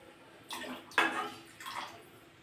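Water is poured from a vessel into a pot of rice for tomato rice, three short splashing pours in quick succession, close and moderately loud, with a quiet gap between them.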